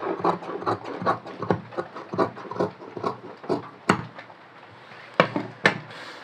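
Scissors cut through salwar fabric up close, a run of rhythmic crunchy snips roughly every half second, easing off and ending with a few sharper clicks, no speech.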